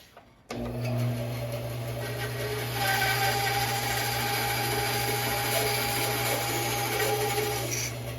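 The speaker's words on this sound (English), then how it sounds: "I need to notch out this section here, and I'll just go ahead and do that on the bandsaw." A bandsaw cuts a notch in a wooden piece for a homemade tortilla press, starting abruptly and running as a steady, loud mechanical drone with a rising blade rasp as it bites into the wood, close up.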